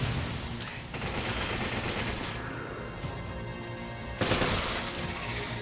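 Rapid gunfire and an explosion crash through co-op combat in Resident Evil 5, dense bursts of shots with shattering debris and a loud blast near the end, with no talking.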